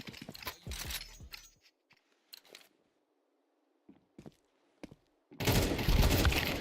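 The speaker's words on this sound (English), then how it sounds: "That's a 3-round burst to start things off." Rapid gunfire in a video game match, a short burst opening the clip, then scattered quiet shots and clicks before a loud sustained volley of fire closes it.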